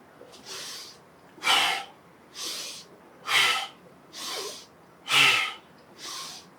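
Heavy, forceful breathing during push-ups, with seven loud, close in-and-out breaths in a steady rhythm about a second apart. Each one is an audible rushing exhale or inhale, and no speech is heard.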